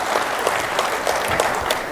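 Audience clapping at a mushaira poetry gathering in Belgaum, a dense, steady round of applause from a crowd that carries on without a break, loud and close.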